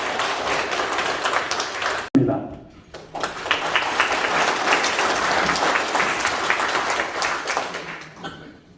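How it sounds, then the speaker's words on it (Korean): An audience at an academic conference marking a research institute's tenth anniversary applauds to welcome a guest, with a broad, sustained round of clapping after a short pause, mixed with crowd noise and talk. "큰 박수로 환영해 주시기 바랍니다."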